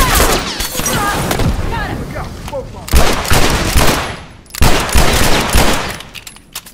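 Rapid automatic gunfire in The Last of Us Factions online multiplayer match, loud sustained bursts with brief pauses between them, close and dominant, with a player's voice talking over the shooting.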